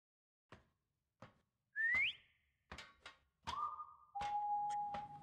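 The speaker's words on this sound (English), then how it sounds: "I don't think that the whole whistling does all that much." Several short whistles in the horror video game Lazaret, including a rising tone and long held steady notes, mixed with a few sharp thunks in an otherwise quiet space.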